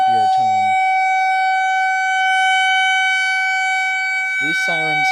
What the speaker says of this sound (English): These sirens here have a few tones